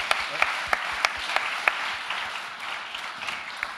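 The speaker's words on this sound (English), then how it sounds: "A big round of applause for you" Applause from an audience at the Kickstart Innovation closing ceremony, a dense steady wash of clapping with several sharper individual claps standing out near the front, tapering slightly toward the end.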